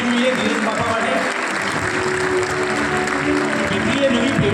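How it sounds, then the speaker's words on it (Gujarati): Loud, sustained audience applause fills the hall at an honour ceremony in Radhanpur, a dense, steady wash of many hands clapping together from start to finish with no break. "જોરદાર તાળીઓ થવી જોઈએ ધીરજ બાપા માટે."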